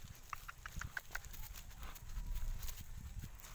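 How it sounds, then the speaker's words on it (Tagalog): Horse hooves clip-clop in a quick, steady run of close strikes while a ridden horse pants under its load, with a noisy outdoor background. "Hinihingal na yung kabayo."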